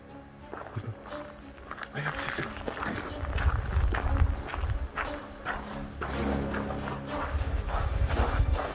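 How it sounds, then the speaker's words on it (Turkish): Footsteps move through a cemetery at night, a run of irregular, fairly close thuds and scuffs over a low rustling background, with faint voices present. "Ayak sesi."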